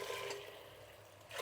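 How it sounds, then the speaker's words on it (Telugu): Hot water is poured into a cooking pot for jeera rice, giving a brief, soft splashing pour. "ఇప్పుడు ఈ నీళ్ళు ఇందులో పోసేస్తున్నాను."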